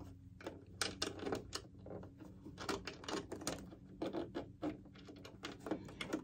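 Sewing machine stitching a zipper, quiet irregular bursts of rapid mechanical clatter with short pauses between runs, close and faint, no talking.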